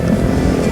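Two motorcycles carrying four people setting off at five in the morning on a dark, quiet road, a loud close engine drone holding steady without talk.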